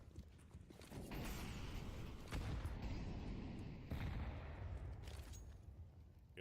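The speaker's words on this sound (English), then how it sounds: "here's the nades. Good damage." Grenades bursting in a Counter-Strike esports match, a sustained, muffled run of booms and gunfire-like crackle at moderate distance, with no speech over it.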